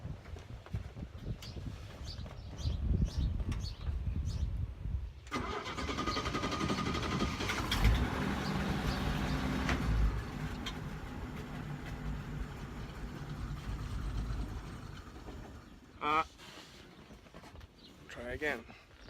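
1966 Chevy C10 engine after a carburetor rebuild, cranking and then catching into a rough running roar that lasts about ten seconds before dying out, followed by a short second crank, with someone talking at the start and end.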